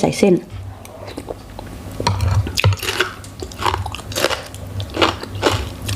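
Crisp bites and wet, crunchy chewing of salt-grilled pork belly with kimchi, close to the mic and repeated in uneven bursts, with occasional soft talk and clinks of dishes between mouthfuls.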